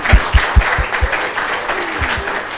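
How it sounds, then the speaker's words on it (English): An audience claps at a design talk, a burst of sharp claps in the first second that thins into scattered, quieter clapping and then fades out. "give applause, guys."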